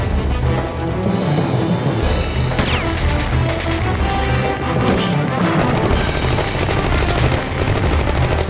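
Gunfire sound effect in a drama about Japanese soldiers, dense rapid bursts of machine-gun fire with overlapping shots and booms, loud and continuous throughout, no talking.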